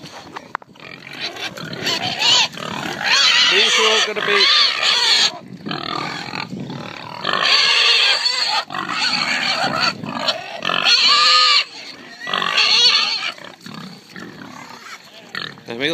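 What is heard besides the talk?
pigs oinking and grunting on a farm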